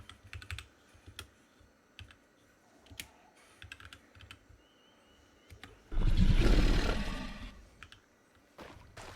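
Typing on a computer keyboard, scattered clusters of light clicks near the microphone, with a loud animal-like roar from the game surging up partway through.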